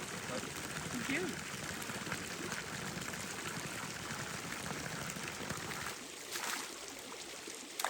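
Fresh spring water gushes in a big, steady flow from a tree in a western larch setting, a continuous broadband wash with brief spatters, thinning out near the end, while a voice speaks faintly beneath.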